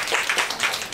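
A crowd of audience members claps together to welcome first-time visitors at a weekend science event, a steady unbroken burst of applause that fills the whole moment.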